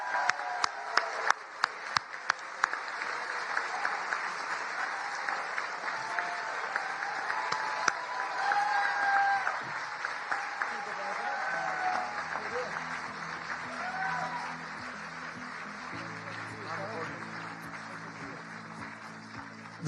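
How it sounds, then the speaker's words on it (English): Dinner audience applauding award winner Josh Dawsey at the White House Correspondents' Dinner, with a few sharp claps that swell into sustained, moderately distant applause under crowd murmur, fading as music begins underneath. "let's give him a big round of applause"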